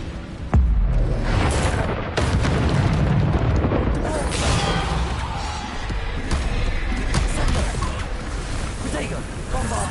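Bombarda blast spells from the Hogwarts Legacy video game boom one after another in a continuous, loud wash of explosions and rumbling debris, with a voice calling out spell names over the din.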